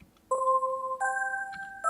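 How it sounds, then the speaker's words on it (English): Synthesized Christmas bells through a chorus at about 0.04 Hz, layered like several instruments together: sustained electronic chime tones entering in staggered pairs, with a fresh strike near the end, clean and up front with no voices. "it sounds like multiple instruments playing at the same time"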